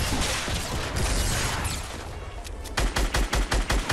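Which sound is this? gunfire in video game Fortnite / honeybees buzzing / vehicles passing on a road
gunfire in video game Fortnite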